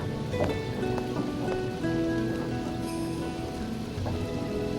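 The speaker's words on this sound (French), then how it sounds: "On dirait qu'il commence à pleuvoir." Steady rain at night patters across a surface, a dense, even hiss of drops with a few louder splashes, no voices present.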